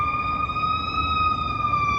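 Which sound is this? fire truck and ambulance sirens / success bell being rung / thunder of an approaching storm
fire truck and ambulance sirens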